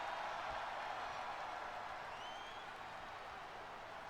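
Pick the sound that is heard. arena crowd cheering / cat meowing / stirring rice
arena crowd cheering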